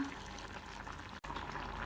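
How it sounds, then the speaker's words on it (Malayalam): Water used to rinse a mixer jar pouring steadily into a pot of jackfruit seed, mango and drumstick curry, a continuous splashing wash with a brief break near the end, no voices. "കുറച്ച് മിക്സിയിൽ ജാറ് കഴുകിയ വെള്ളം കൂടി ഒഴിക്കാം"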